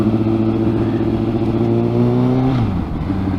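A 2017 Honda CBR1000RR Fireblade engine drones loud and close, its pitch holding steady and then dropping sharply as the rider shifts gear, with no talk over it.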